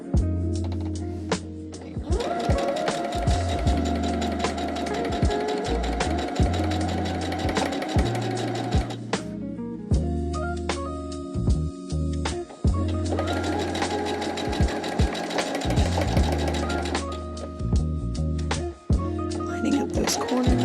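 A sewing machine runs steadily while stitching and nesting a quilt block seam, with two long bursts of rapid stitching broken by a short pause and a voice talking over the work.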